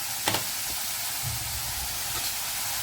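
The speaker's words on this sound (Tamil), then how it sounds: "இது வதங்கட்டும்." Onions and masala sauté in a pan for crab gravy, giving a steady, close hiss and sizzle throughout, with a few faint stirring scrapes.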